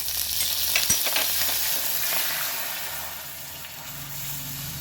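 Milk poured into hot ghee in a pan, a soft bubbling sizzle and hiss that settles quieter over a few seconds, heard alone without talk.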